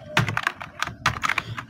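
Rapid keystrokes on a computer keyboard during design work in Adobe Illustrator, with close, crisp clicks arriving in two quick bursts and no talk.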